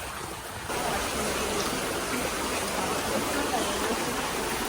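A stream beside a nature trail in Bali, a loud, steady broadband rush of flowing water that swells slightly louder after the first moment and continues without a break.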